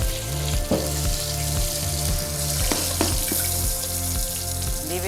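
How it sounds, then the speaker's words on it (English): Running tap water rinsing a cutting board in a kitchen sink, a steady close rush of water with occasional clunks, while something sizzles in a pan nearby. "I'm going to wash my board and take this out to leave it to rest."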